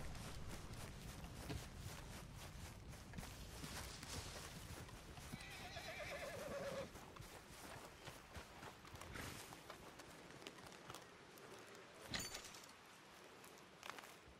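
A horse in Red Dead Redemption 2 whinnies partway through over steady hoofbeats and busy ambient game noise, with a sharp thump near the end.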